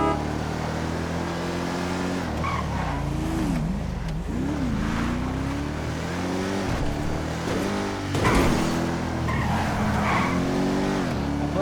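A police Dodge Charger patrol car in a video game drives with a steady engine drone and shifting revs, tires squealing and skidding in places, loud and close throughout with no talk.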